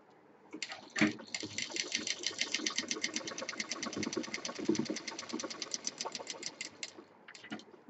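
A sewing machine stitches a zipper onto a shoulder bag, its needle running as a fast, even clatter for several seconds. The sound is close but quiet, with a few thumps of handling at the start and end.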